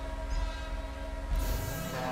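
Loud, sustained horn blare in GTA V, a train-like horn sounding continuously with a deep droning tone, shifting in pitch midway amid rumbling game engine noise.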